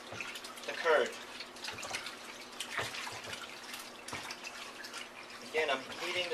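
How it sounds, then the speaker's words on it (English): Mozzarella curd stirred by hand in a bin of warm water at a deli, soft sloshing and splashing swells under a speaking voice. "Now I'm stirring it around so I can get the water temperature even all around the curd."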